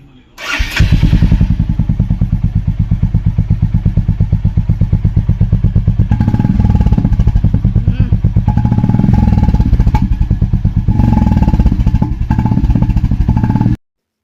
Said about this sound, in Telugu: కొత్త సైలెన్సర్ పెట్టి దాని సౌండ్ ఎలా ఉందో ఒకసారి చెక్ చేద్దాం.